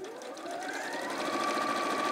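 A sewing machine stitches across ribbon in a steady, continuous whir that holds a constant close hum for about two seconds, with no talking over it.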